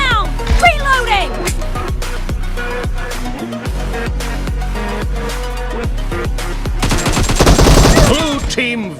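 Gunfire in the mobile battle royale game PUBG, played on a POCO X3 Pro phone: rapid bursts of automatic shots and sharp single cracks, loud and close, alongside game announcer voice lines.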